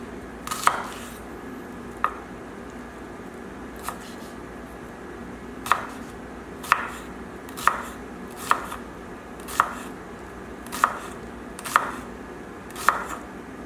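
A knife chops an onion on a cutting board, roughly a dozen sharp, evenly spaced thuds close by over a faint kitchen hum, with no voices.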